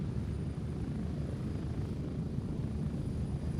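Steady, dense helicopter rotor and engine drone inside the Gray Zone Warfare video game, a constant low rumble filling the whole stretch with no talk over it.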